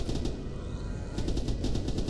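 Rapid bursts of video-game gunfire from Red Orchestra 2, automatic weapon fire in quick repeated volleys, with a short pause before a second run of shots.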